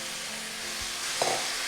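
Onion and meat fry in a pan for nikujaga, a close, steady sizzling hiss with a faint stir of a utensil partway through.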